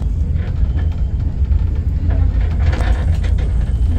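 Sagardari Express intercity train pulling into Jessore Junction station, a steady low rumble of rolling carriages with faint mechanical rattles throughout.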